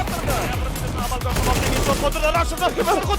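Rapid bursts of gunfire in the Counter-Strike video game fill the clip, dense and continuous with overlapping shots and tonal game or music sounds layered over them.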